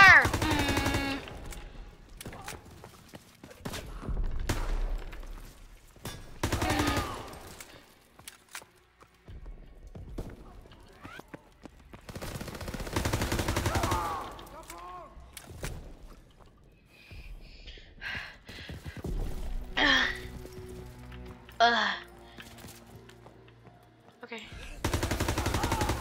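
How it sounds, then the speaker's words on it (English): Gunfire in Call of Duty WW2 crackles in a World War II bunker assault, sharp shots and bursts in scattered clusters between gasps, shouted voices and quieter gaps, mostly near and loud. "Open fire!"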